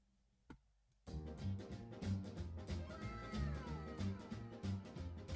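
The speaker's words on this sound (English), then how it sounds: "Those are good kitties." Several kittens meow over and over, overlapping high cries close by and fairly loud, starting after a brief click and continuing without pause to the end.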